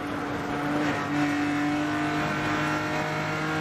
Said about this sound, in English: Let's listen to the throttle through the S's and the commitment.